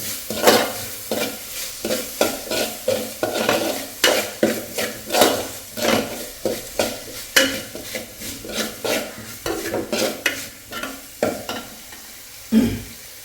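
Paneer bhurji mixture frying in a pan until browned, a loud bright sizzle overlaid with quick repeated scraping strokes of a spatula against the metal.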